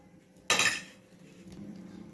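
Greased stone baking pots, oiled for a no-oven cake, knock together in one sharp clink that fades into a faint rattle.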